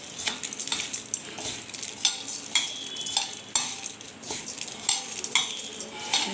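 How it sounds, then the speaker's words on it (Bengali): Spicy mango pickle being mixed by hand or spoon with chilli powder, turmeric and sugar, giving steady close scraping and stirring with light clinks of a utensil against the dish, no talk. "তো এটাকে ভালো করে মাখিয়ে নিতে হবে।"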